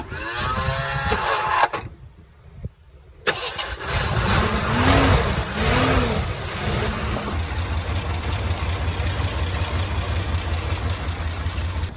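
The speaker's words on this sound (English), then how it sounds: "Running, it's up at idle now." A 1984 Ford Bronco II engine cranks and catches, revs up briefly, then settles into a steady, low idle that runs on close by with no talking.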